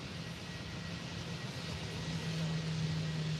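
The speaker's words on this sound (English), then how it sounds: "So here goes the United 757." A United Airlines Boeing 757 is heard at an early-morning planespotting session at Faro Airport, a steady distant jet roar with a faint whine that swells slightly over a few seconds.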